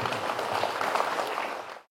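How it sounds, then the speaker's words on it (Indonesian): Steady applause from an audience at a political gathering with volunteers in Papua Barat Daya, a dense continuous patter of clapping lasting about two seconds and fading out at the end, with no talk over it. "Tepuk tangan dulu."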